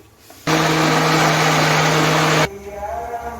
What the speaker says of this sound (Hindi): अब हम ब्लेंडर में जो है वो अच्छी तरह से ब्लेंड कर लेके इसका पेस्ट रेडी कर लेते हैं